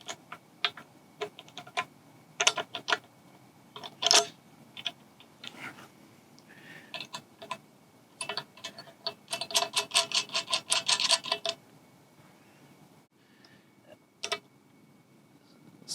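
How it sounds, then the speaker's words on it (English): Bolts securing cleats to a commercial truss are tightened with a 9/16 socket and open-ended wrench, giving bursts of quick, close metallic ticking and clicking ratchet strokes separated by short pauses. "we'll use a 9/16 socket and open-ended wrench to secure these"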